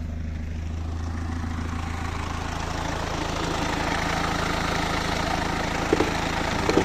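Vehicle engine running at a steady idle, a constant low rumble close by with no clear start-up burst, and a couple of faint clicks near the end.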